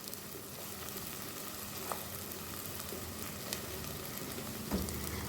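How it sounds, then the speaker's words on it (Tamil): Tomatoes and yogurt frying in a pan with golden ginger-garlic paste, giving a steady soft sizzle throughout with a few faint clinks, no talking. "இந்த இஞ்சி வெள்ளைப்பூடு பேஸ்ட் பொன்னிறமாக வதங்கியதற்கு பிறகு நாங்கள் இப்போ தக்காளியையும் தயிரையும் சேர்த்துக்கொள்ளுவோம்."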